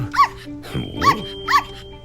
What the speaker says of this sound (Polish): Pozwólcie najpierw, że przedstawię wam moje małe pieski.